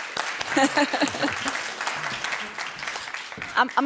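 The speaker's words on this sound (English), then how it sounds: "You can give him an applause." Conference audience at an offshore wind event applauding a departing speaker, a moderate round of clapping heard under someone talking over it, with sharper claps near the end.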